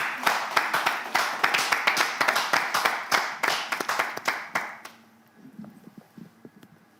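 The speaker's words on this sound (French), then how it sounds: "Applaudissez notre candidat." Lively audience applause at a televised French-language event, dense rapid clapping for about five seconds that then cuts to quiet, with faint sounds afterward.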